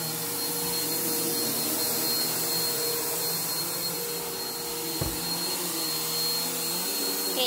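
A household vacuum cleaner running continuously at close range with a steady high whine and roar, plus a brief bump midway through; nobody talks.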